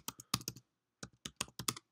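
Password being typed on a computer keyboard: two quick bursts of crisp, close key clicks separated by a short pause, with no talking.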